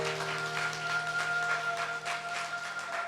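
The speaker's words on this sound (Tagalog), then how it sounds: "Lahat na nagmamahal, pumalakpak na malakas sa Diyos!" Loud, steady clapping from a church congregation during a healing service, sounding as a rapid continuous patter over a sustained organ-like tone.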